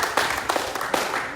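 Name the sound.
audience applause at an outdoor Bible study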